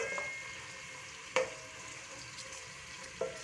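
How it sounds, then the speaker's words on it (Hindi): Medium onion frying in half a cup of oil until light brown for matar pulao, a faint, steady sizzle with a few sharp clinks of stirring against the pan. "1/2 कप ऑयल और 1 मीडियम साइज़ की प्याज है। इसको हम बिल्कुल लाइट सा ब्राउन करेंगे"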